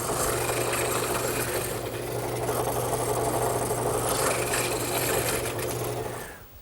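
A mortise machine cuts a mortise into a wooden rail for an English garden bench, a loud continuous motor drone with a steady hum and grinding rasp that winds down at the end.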